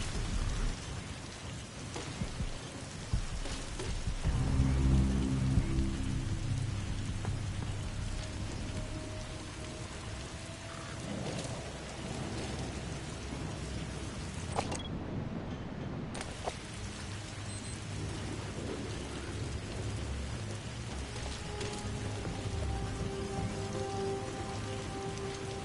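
Rain falls in the video game Wolfenstein: The New Order, a constant wash of drops with low rumbling thunder rolling beneath it, steady throughout apart from a brief dip, mixed with occasional low ambient tones.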